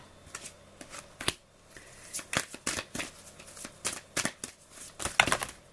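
Tarot cards are shuffled and drawn in quick bursts of riffling and slapping, with irregular, close, crisp flicks and short pauses between them.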